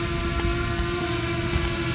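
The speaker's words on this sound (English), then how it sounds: "He's a little drone, so the wind's hitting him, kind of affecting him a little bit." A small Fimi Mini 3 drone flies in wind, its propellers giving a steady, loud whirring buzz with a constant pitch and rushing wind noise throughout, no voices.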